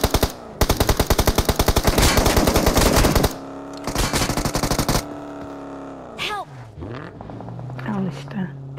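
Rapid automatic gunfire in PUBG Mobile crackles in long, loud bursts, then gives way to single shots and a vehicle engine revving. Players chatter over the shooting.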